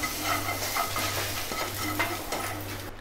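Cowpeas being stirred into a dry-coconut and coriander masala in a hot pan, giving a steady close sizzle with soft scraping stirs throughout and no voices.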